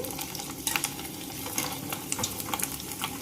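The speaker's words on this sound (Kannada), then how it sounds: "ಎಣ್ಣೆ ಕಾದೈತಿ. ಈಗ ಶಾಂಡ್ಗಿ ಹುರ್ಕೊಳ್ಳೋನು. ಈಗ ಶಾಂಡ್ಗಿ ಹಾಕ್ತಾನು." Onion sandige, sun-dried onion crisps, frying in hot oil, a steady crackling sizzle with scattered sharper pops and light stirring clinks, close and moderately loud.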